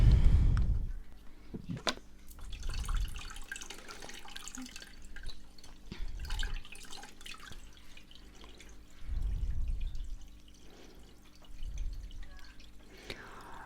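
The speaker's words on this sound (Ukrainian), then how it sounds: "І буду набирати воду. Воду я набираю з старого акваріума." Water from an old aquarium pours and splashes in repeated bursts into a new nano aquarium tank, with drips and sloshing between pours, close by and moderately loud.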